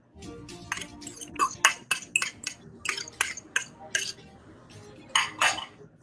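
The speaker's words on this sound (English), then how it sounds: "Then just mix it using a fork." A fork scrapes and clinks against a bowl while mixing crushed graham crumbs, cinnamon and butter for a no-bake cheesecake base, giving about a dozen quick, close metallic taps in irregular bursts.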